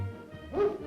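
A military working dog in training gives a single short, close bark with a low growling start, in an outdoor training setting with no talking.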